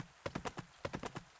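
Horse hooves clip-clopping in the farming game Pumpkin Days, two quick runs of about four or five steps each separated by a short pause, close and fairly quiet with no talk.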